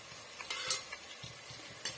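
Ginger garlic paste sautéing in a pan while chicken biryani is prepared, a soft continuous sizzle with faint scraping stirs and a few brief clinks, close and fairly quiet.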